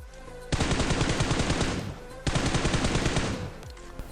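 Two long bursts of rapid automatic gunfire in the mobile battle-royale game PUBG Mobile, each lasting over a second, loud and close, with a short pause between them and no talking.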